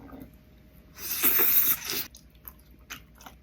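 Someone bites and chews pomegranate seeds close up, a burst of wet crunching lasting about a second, followed by a few fainter smacks and squishes with no talk.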